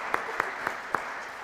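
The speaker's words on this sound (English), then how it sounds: "Give yourself a round of applause." A church congregation applauding during a Sunday homily: a steady wash of clapping with four sharper claps standing out at an even rhythm, moderately close, with no talking.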